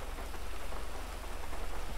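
Rain falls steadily on a roleplay server in a police-themed video game, making a dense, even hiss of drops with no talk over it.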